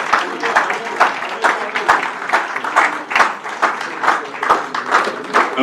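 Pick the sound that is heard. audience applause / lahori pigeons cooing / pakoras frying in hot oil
audience applause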